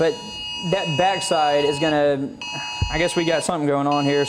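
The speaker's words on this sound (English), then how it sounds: "I'm sure you can hear all the beeping going on in the studio right now." Alarm tones beep repeatedly in a TV weather studio during a tornado warning, steady high pitched pulses running under someone talking continuously.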